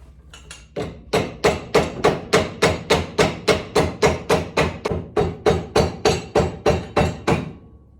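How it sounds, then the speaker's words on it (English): A small hand hammer pounds on a stuck anchor part while a drag car's rear brake is swapped over to 5/8 wheel studs. It gives about twenty sharp, evenly spaced metallic blows in a steady rhythm, close and loud. "Just gotta pound on it with my little hammer."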